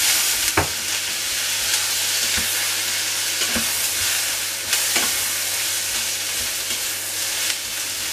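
Zucchini and shrimp sizzle loudly in a hot wok, a continuous close hiss of frying broken by several sharp scraping strokes of stirring.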